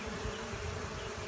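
Honey bees buzzing during the catch of a small swarm: a dense, steady drone from many bees, close and continuous with no talking over it.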